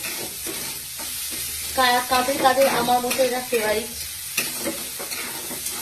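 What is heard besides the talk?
onions being fried and stirred in a pan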